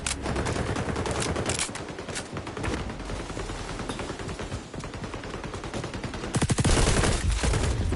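Rapid automatic gunfire in the video game XDefiant, hip-fired at point blank range, dense sustained bursts that swell louder near the end, with no talking.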